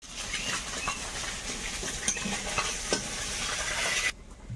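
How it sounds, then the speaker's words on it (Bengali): Fish sizzles and spatters in hot oil in a wok, a steady bright crackle of frying with occasional louder pops, close and continuous before cutting off near the end. "সব মাছগুলো এতক্ষণে ভাজা কমপ্লিট হলো।"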